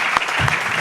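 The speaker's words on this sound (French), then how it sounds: "on doit féliciter très fort et applaudir tous les participants" An audience at a short-film event applauds the participants and directors, a brief burst of steady clapping.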